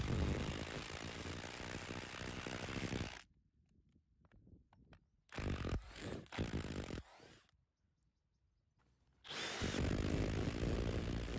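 A Parkside Performance C3 impact driver with a half-inch anvil modification runs in expert mode, mode 4, in loud bursts of hammering rattle split by quiet pauses and a shorter burst in the middle.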